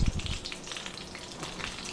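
Potato tacos, made with Thanksgiving leftovers, fry in oil in a pan, giving a steady close hiss and crackle of sizzling with no talking.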